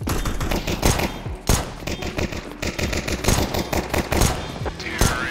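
Rapid gunfire in Counter-Strike 2: dense bursts of close, sharp shots in quick succession, with brief pauses between volleys and faint background game noise throughout.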